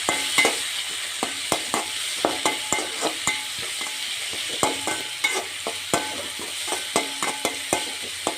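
Tomatoes fry with salt in a pan for a lentil dumpling curry, giving a steady bright sizzle broken by frequent sharp clinks and scrapes of a spoon stirring, up close with no talking.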